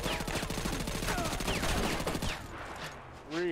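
Fast, rhythmic automatic gunfire in SOCOM 2 rattles loud and close for over two seconds, then tapers off into quieter, muffled shots and brief voices.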